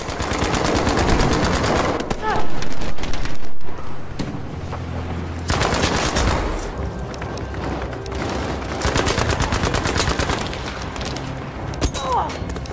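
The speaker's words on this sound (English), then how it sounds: "The MP40, another classic German weapon, obviously used in World War II, designed in 1938 by Heinrich Vollmer." Rapid automatic bursts from a World War II German MP40 submachine gun in a video game, loud sustained strings of shots with brief gaps and scattered booms, a voice faintly present underneath.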